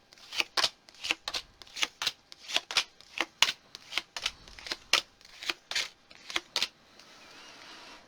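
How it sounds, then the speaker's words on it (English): Tarot cards laid out one after another for a monthly reading, a close run of about twenty crisp snaps and slaps in quick irregular pairs, then a quiet pause at the end. "let's just put down your first set of cards"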